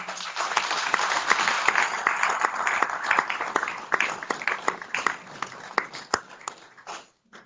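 Applause at a regional cycling committee general assembly, a crowd clapping steadily with sharp individual claps standing out, moderately loud, thinning and fading out in the final second.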